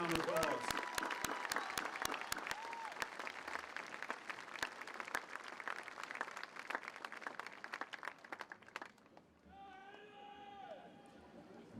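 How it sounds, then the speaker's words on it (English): Audience applause at a high school graduation ceremony, with sharp individual claps ringing out in a large hall, gradually thinning to sparse claps before a voice speaks near the end. "Please give them a round of applause."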